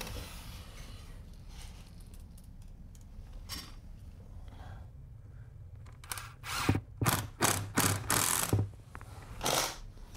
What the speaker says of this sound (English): now I'll hold it together if you want to screw that first side